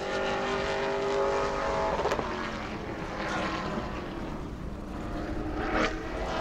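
Pro late model race cars lapping during qualifying at New Smyrna, with a continuous roaring engine drone that swells and fades slightly as the cars pass, moderately distant and without talk.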